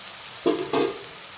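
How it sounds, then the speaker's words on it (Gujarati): Onions frying with kantola in a pan, a soft steady sizzle broken by two short scraping stirs, close and alone with no voices. "બસ થોડી ડુંગળી પાકવા દઈશું"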